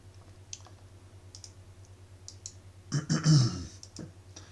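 Mouse clicks while selecting items in RWG report software, a few sharp close clicks followed by a louder cluster of clicking and handling noise, with faint talk in the background.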